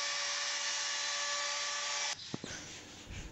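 A handheld trimmer router runs steadily and loudly while trimming HPL laminate along plywood edges, then cuts off partway through, leaving a few light knocks and a fading whir.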